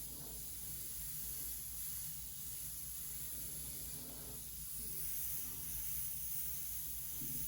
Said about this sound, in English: I'm just gonna mist her right now. Her entire body.